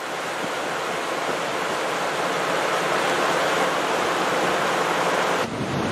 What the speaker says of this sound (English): Lots of water coming through here.